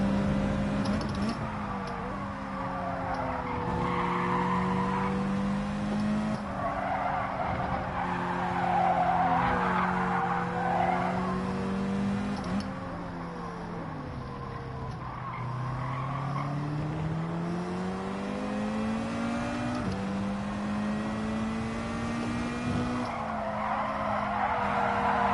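A race car cornering in Gran Turismo 7, its engine droning and rising in pitch through the gears while tyres squeal and skid around the bends, loud and steady across the whole stretch with no talk.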